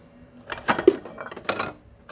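Pots and plates clatter and clink in a few quick bursts, close by, with sharp metallic knocks between quieter moments, as dishes and a cooking pot are set down during washing up.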